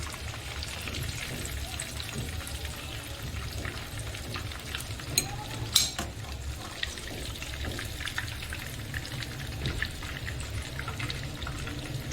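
Kebabs frying in a pan, a soft continuous sizzle and crackle with light spattering pops, fairly quiet and steady with no voices.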